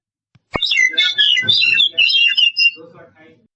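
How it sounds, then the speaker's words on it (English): A common myna gives a short burst of harsh, chattering whistles and squawks, loud and close, lasting a couple of seconds before fading. "Common myna."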